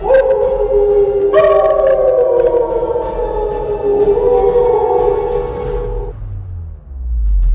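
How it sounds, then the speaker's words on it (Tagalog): Eerie, sustained creature howls from an aswang horror audio drama, several long wavering cries layered together, loud and close, sliding in pitch before fading into a low rumble at the end. "Nang sinagot naman ng mga gabunan yon ng pag-alulong."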